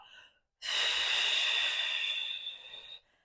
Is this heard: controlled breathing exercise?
yes